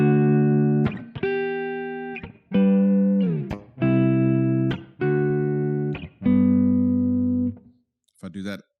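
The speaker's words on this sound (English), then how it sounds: "Let's start with a room reverb." Electric guitar through a Strymon BigSky pedal on a room reverb setting plays a series of sustained chords and notes, each ringing out clearly with short decays between them, loud and alone, with a brief noisy burst at the very end.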